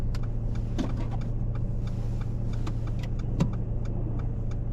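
A parked car's engine idles at a steady low hum, with faint clicks and small knocks over it and no voices.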